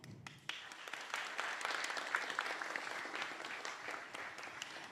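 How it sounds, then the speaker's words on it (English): Steady applause from a large audience, dense clapping held at an even level throughout. "Let's give a round of applause to our guests."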